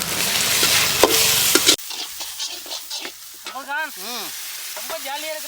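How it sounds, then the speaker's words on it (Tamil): Whole spices tempering in hot coconut oil for a goat offal curry, a loud steady sizzle and crackle at first that drops away, followed by faint stirring clatter and a few chirping bird calls in an outdoor setting. "தேங்காய் எண்ணெய் ஊற்றி தான் நம்ம தாளிக்கணும்"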